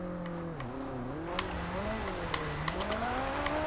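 Ferrari 458 Speciale from Forza Horizon 2 revving and shifting, engine pitch dipping and climbing in waves through gear changes, with raspy exhaust tones, a few light clicks, and moderate steady loudness.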